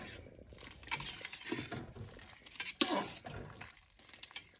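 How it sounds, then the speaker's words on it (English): Homemade noodles being stirred into simmering broth in a pan, with soft scraping and clinking of a utensil against the pan in irregular bursts, fairly quiet and close, with no talking. "I will stir these guys in, make sure they've started cooking"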